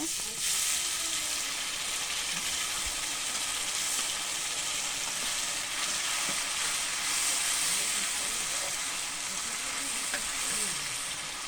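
Onion and ginger-garlic paste fry in a pan for a pepper curry, giving a steady, dense sizzle and hiss with faint stirring scrapes, continuous throughout.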